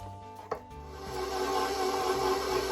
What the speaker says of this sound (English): Make sure you're scraping those sides, ladies and gentlemen.